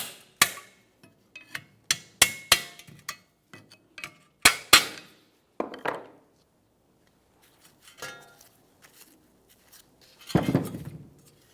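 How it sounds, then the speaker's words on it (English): Sharp metallic taps from a small hammer on a pry bar against the brake backing plate along the steering knuckle of a 2014-2019 Toyota Corolla, struck in uneven clusters with pauses, ringing briefly; a softer scraping thud comes near the end. "I have a small hammer, and I'm going to use this pry bar, start tapping on that backing plate"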